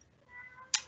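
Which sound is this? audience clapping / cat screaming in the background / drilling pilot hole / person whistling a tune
cat screaming in the background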